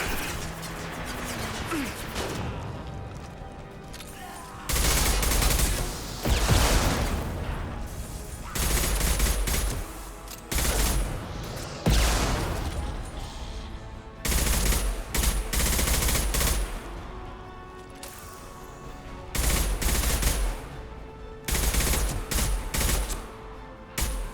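Heavy automatic gunfire in a shooter video game comes in long, loud, crashing bursts separated by brief lulls, and it dominates throughout.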